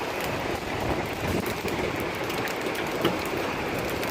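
Steady, dense rain pours down outdoors just after a hailstorm, a continuous close hiss of drops on surfaces with no clear breaks, running alone without voices.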